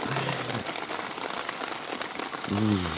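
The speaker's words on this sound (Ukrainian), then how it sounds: "Да, чути як дощ фігарить." Heavy rain falling at night in the Carpathian mountains, a continuous dense hiss of drops heard close by, with brief voiced sounds at the start and end.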